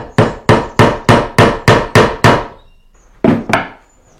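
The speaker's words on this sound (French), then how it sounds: "Alors, Réjeanne, est-ce que tu veux du coup m'aider à clouer ça?" A hammer driving nails into a wooden box: eight loud, evenly spaced wooden knocks in quick succession, a brief pause, then two more close strikes, with no voices.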